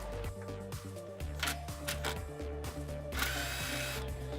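Hand wrench or ratchet working an 18 mm fastener to free a rear sway bar link on a 2003-2006 Jeep Wrangler TJ, giving repeated close metallic clicks and ratcheting over a steady background hum.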